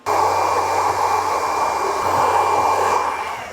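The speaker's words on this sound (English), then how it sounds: "So I'm going to dry this off and I'm going to start working on my fade." A hair dryer blowing on hair in a barbershop runs steadily and loudly, a constant close whoosh with a faint whine throughout, no voices.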